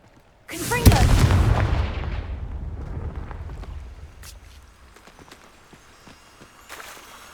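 A Confringo fire spell goes off in Hogwarts Legacy, a sudden loud boom followed by a long roaring, crackling blast that slowly fades over several seconds, with faint clicks and small hits trailing after.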